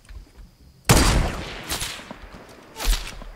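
In Fortnite, a sharp, loud sniper rifle shot cracks out and trails off, and a second, weaker shot follows near the end, with no talking.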